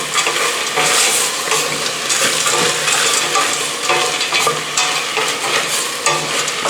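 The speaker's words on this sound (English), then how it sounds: "the onion, and the anchovy and the tomatoes. So just stir that in." Onion, anchovy and tomatoes sizzle steadily in a hot pan while a utensil stirs them, a dense continuous frying hiss with scraping strokes throughout.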